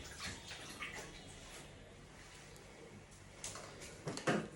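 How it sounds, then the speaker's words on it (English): Washed shrimp sit in a drainer as water trickles and splashes out, a soft continuous wet drip with a few louder clatters and sloshes near the end. "So I'm going to allow the water to drain out."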